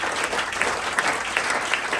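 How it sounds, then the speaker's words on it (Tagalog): Loud, sustained applause fills a church hall as the congregation claps together, a dense unbroken wash of many hands throughout. "Malakas po na palakpak para sa ating Diyos."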